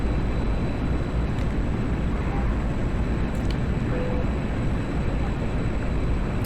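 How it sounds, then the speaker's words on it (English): A jet fighter lights its emergency afterburner in a combat flight video game, a loud, steady low roar of engine thrust that holds evenly throughout with no talk over it. "A little emergency afterburner."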